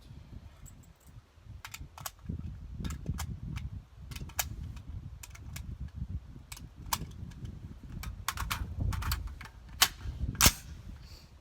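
Unsuppressed .223 rifle firing 55 grain rounds at a shooting range: sharp, cracking shots spaced irregularly across the span, several clustered near the end, over a steady low rumble of wind or background noise.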